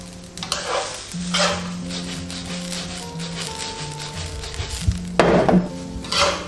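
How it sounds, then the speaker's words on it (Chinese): Sesame seeds stir-fried slowly in a pan over low heat, with repeated scraping stir strokes and a soft, steady sizzle running throughout, growing busier near the end. "朋友们一定要小火慢炒，把它的香味给它慢慢炒出来"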